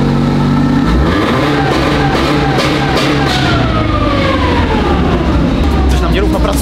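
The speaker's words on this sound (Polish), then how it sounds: "Za to możemy posłuchać pięknego dźwięku tegoż to silnika." Car engine, started totally cold and pushed straight to the rev limiter, roars loudly and continuously with rising and falling pitch sweeps, running somewhat unevenly throughout.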